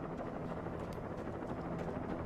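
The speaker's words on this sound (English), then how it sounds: "Helicopter's coming." A helicopter's thick, constant rotor roar in the video game Alan Wake fills everything, loud and unbroken throughout.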